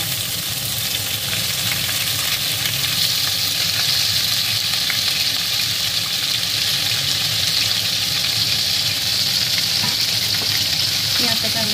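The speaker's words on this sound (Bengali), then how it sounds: "পেঁয়াজটাকে আমি একটু লাল লাল করে ভেজে নেব।" Chopped onions fry in hot oil in a pan for soybean pulao. A continuous loud, close sizzle holds steady the whole time, with faint stirring beneath it.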